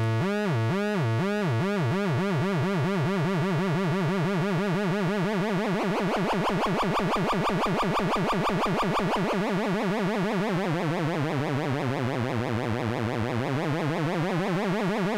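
A synthesizer tone warbles under fast, rhythmic square-wave LFO modulation, its pitch and timbre pulsing and sweeping continuously, loud and distorted.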